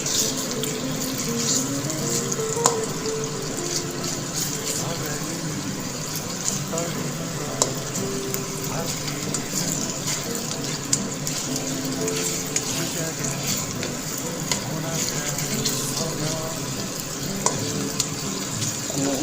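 Pork and oyster sauce stir-frying in a pan, a steady close sizzle with scraping and stirring clatter running throughout, water-like hiss underneath and occasional clinks of the utensil against the pan.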